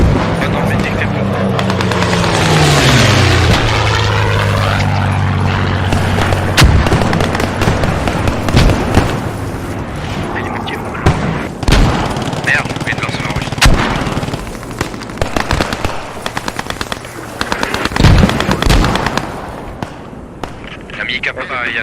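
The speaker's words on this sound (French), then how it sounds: "Les tirs." Gunfire in the WWII shooter Post Scriptum during an organised match, with sharp rifle and machine-gun shots cracking at varied distances, some close and loud, others distant, plus a droning engine passing early on over a busy battlefield din.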